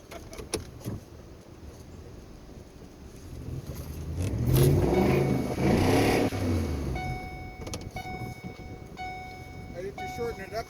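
A Ford F150 pickup with a 5L engine, hauling logs, revs up from a steady idle into a loud, rising engine roar that then eases back. People talk nearby and keys jingle over it.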